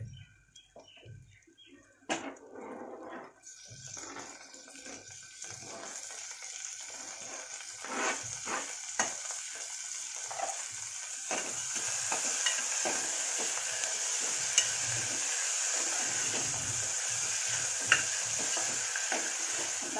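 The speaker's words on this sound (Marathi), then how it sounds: "आता मी याच्यावर टाकणार आहे टोमॅटो।" Tomatoes tipped into a frying pan of spiced chowli (black-eyed pea) curry and stirred, with a soft start, then rising steady sizzling and frying and repeated scraping stir strokes, close and alone.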